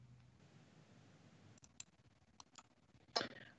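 A computer mouse clicks a few times in a quiet room while working in CADlink Digital Factory v10 DTF Edition: light, separate ticks, with the last click louder and crisper.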